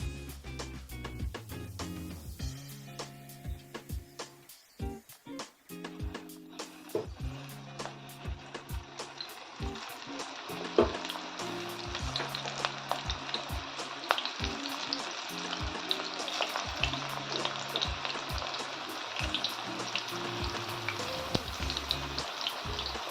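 Drumstick flower bhaji fritters frying in hot oil, a steady close sizzle that builds and thickens as more battered pieces drop in, with scattered clatters and taps of a utensil against the pan throughout.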